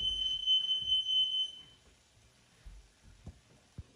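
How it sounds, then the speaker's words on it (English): A home smoke alarm sounds while onions caramelize on the stove, its shrill continuous electronic tone holding for about a second and a half before cutting off, leaving faint kitchen clatter and soft knocks. "And that's my fire alarm."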